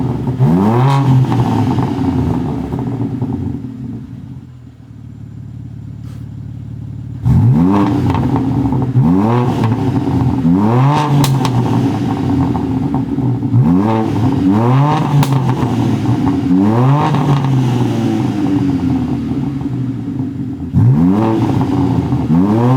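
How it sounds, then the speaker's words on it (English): A BMW G80 M3 engine revs repeatedly in loud bursts, each rise followed by crackling exhaust pops, with a brief quieter idle partway through. "let me give it some revs so you guys can hear what it really sounds like"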